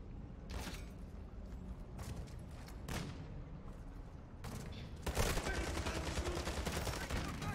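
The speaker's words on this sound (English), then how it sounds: "He's using the sentry guns for himself too." An automated sentry gun fires in Call of Duty Warzone: scattered sharp shots at first, then a sustained, steady rattle of rapid fire that runs on to the end, fairly loud and with no talking.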